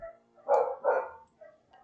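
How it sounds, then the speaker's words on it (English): Dogs bark in two quick, loud, close barks, followed by a fainter short yelp, with no talk. "it's because the dogs are piping up"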